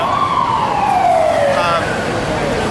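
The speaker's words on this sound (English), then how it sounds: "Right where that fire truck's going." A loud wailing siren sweeps downward as a fire truck passes close by in New York City, over heavy traffic rumble.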